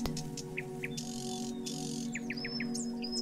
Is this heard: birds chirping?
yes